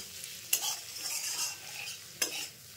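Soya chunks stirred with egg and tomato in a pan, a soft continuous sizzle broken by two sharp scraping strokes of the spoon.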